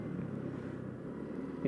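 A car passes on a narrow mountain road through cold pine forest, a steady low engine rumble held at moderate distance throughout.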